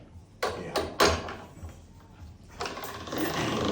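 A pasta machine rolling a thick sheet of lightly floured dough in a cooking class, with a few short mechanical rumbles followed by a longer, steady grinding pass near the end. No one speaks.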